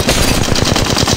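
Rapid automatic gunfire from a weapon in the Apex Legends Mobile battle royale game, a steady stream of loud close shots in quick rhythm with no pauses.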